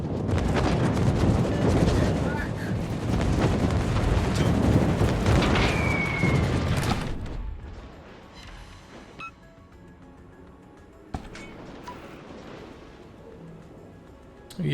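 Torpedo explosion in a naval combat video game: a long, loud rumbling blast with roaring wash that fades into quieter ambience, with one sharp hit afterward.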